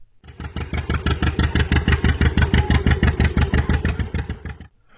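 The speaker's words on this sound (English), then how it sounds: "retaining the signature Johnny Popper two-cylinder engine, emitting the familiar pop, pop, pop sound" A low two-cylinder John Deere 'Johnny Popper' tractor engine chugs in a steady, rapid pop-pop-pop rhythm, loud and close, running continuously before cutting off near the end.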